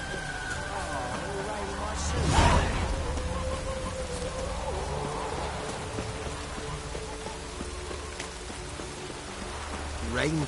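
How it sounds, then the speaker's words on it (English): Steady rain in The Witcher 3, a continuous soft hiss of falling water under in-game music and ambience, with a brief louder swell in the middle. "Rain doesn't bother you, it seems."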